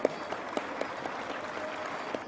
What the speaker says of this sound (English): Can we applaud all those volunteers, please?